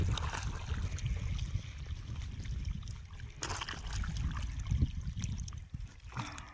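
Water pours from a broken bund into a farm field, a soft, steady trickling and gurgling with faint scattered splashes, fairly quiet throughout.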